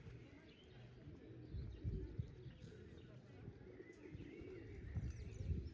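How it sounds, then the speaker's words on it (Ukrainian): Pigeons coo softly nearby with occasional flutters and light chirps, while a person speaks quietly over the birds in Truskavets. "Ксім, дивись, скільки пташок"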